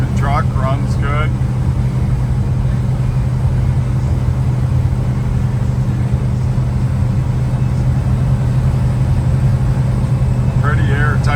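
Exhaust drone of a 1978 Dodge Lil Red Express pickup heard from inside the cab while driving, a steady low rumble filling the whole clip, with brief bits of talk near the start and end.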